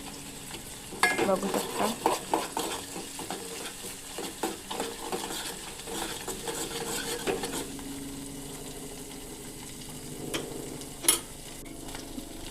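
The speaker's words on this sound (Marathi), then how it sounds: "कांदा छान परतून घ्यायचा आणि मग थोडासा पेस्ट टाकायचा, पेस्ट पण छान परतून घ्यायचा" Onion and masala paste sauté in a pan, a steady low sizzle with frequent stirring scrapes and soft clinks throughout, and a brief voice speaks near the start.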